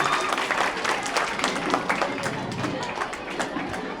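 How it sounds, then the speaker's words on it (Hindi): A school audience applauds students before an Independence Day debate, with a dense, even burst of clapping lasting a few seconds and crowd murmur mixed in. "जोरदार तालियों की सदाओं में इन बच्चों की हौसला अफजाई करें।"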